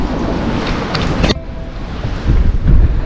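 Strong typhoon wind roars over a flooded seaside road with water spilling onto the street, a steady loud broadband rush with gusty swells and buffeting against the microphone, no voices.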